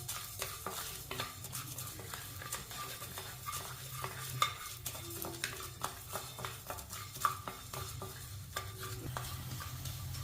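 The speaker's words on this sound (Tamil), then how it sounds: "இப்போ தனியாவை வறுக்க போகிறோம்." Coriander seeds dry roasting in a pan for Pudukkottai chutney, a soft rattling scrape of seeds stirred around with faint sizzle and occasional clinks of a spoon against the pan, fairly quiet, no voices.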